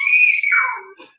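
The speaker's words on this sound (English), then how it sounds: "Excuse me if you hear the screaming outside." A child's high-pitched scream from outside rises sharply, then trails off and falls away, followed by a short fainter cry, heard at a slight distance with no talking over it.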